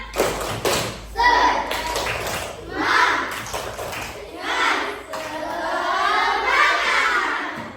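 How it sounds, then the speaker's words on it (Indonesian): A primary school class does the Indonesian 'tepuk semangat' clapping chant, with bursts of group claps and taps alternating with children chanting and shouting together in a classroom. "Kita tepuk semangat dulu."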